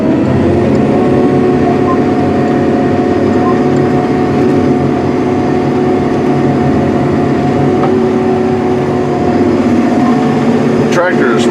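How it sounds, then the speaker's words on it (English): A 570 hp John Deere 9570RX tracked tractor pulls a 20-foot UFO high speed disk at just over 8 mph over rough grass terrain, a loud steady engine drone with rumbling low end throughout. "The tractor is running at just over 8 miles per hour."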